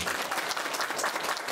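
An audience at a folk ensemble's village concert in Sasynivka claps in a dense, steady burst of applause that fills the room without a break.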